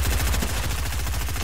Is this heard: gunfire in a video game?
yes